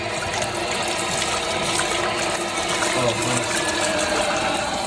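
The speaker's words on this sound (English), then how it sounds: "Anyways, I'm gonna turn back on the water." Water runs steadily from a tap with a continuous rushing splash, close by and unbroken.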